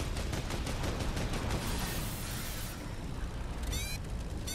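Rapid bursts of gunfire rattle in a fast repeating stream as a building is shot down in a flying video game, loud and continuous before tapering into a dense rumbling wash.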